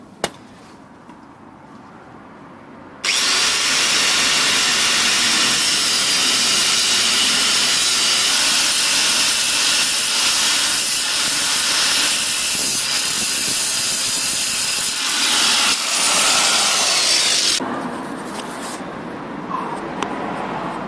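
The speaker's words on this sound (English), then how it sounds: "So I think I'm going to go get the angle grinder and start cutting away at things." Angle grinder cutting away an old exhaust on a Mazda MX5: a loud sustained hissing whine starts after a quiet few seconds and runs steadily for about fourteen seconds before dropping back to low background noise.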